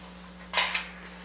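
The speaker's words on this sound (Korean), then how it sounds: "볼일을 치르고 난 녀석은 냄비를 들고 기세 등등." Child picking up and handling a metal cooking pot at a grandparents' home, giving two quick clanking knocks of metal close by over a steady low electrical hum.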